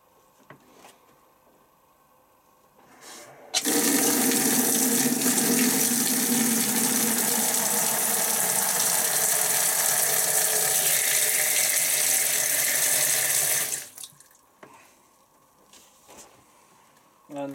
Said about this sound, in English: I'm gonna load this with a little bit of water